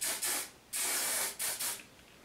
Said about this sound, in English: we're going to hairspray them really well